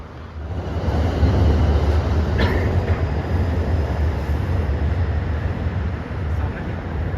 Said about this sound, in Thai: ขบวนรถเร็วที่ 171 นะครับผม กรุงเทพอภิวัตร ปลายทางสุไหยกรก นะฮะ